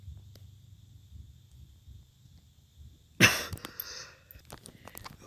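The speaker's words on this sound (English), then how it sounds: "I was coughing. I didn't want it to annoy you." A single sharp cough breaks a quiet background with faint insect chirping, followed by a brief rustle.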